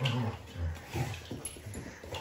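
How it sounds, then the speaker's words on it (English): Dalmatians playing together, with soft whimpers, yips and scuffling close by, steady and fairly quiet throughout. "hope you enjoyed the dogs having fun"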